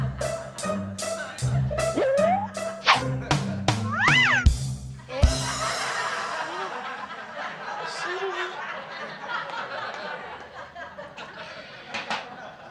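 A cat gives a couple of short, rising meows amid busy comic chatter and music, the calls close and fairly loud before the scene settles into steady background noise.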